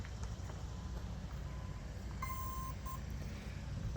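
An RMRC Recruit FPV wing's ESC arming after its battery is plugged in, with a short run of faint electronic tones in the middle over a steady low background hum.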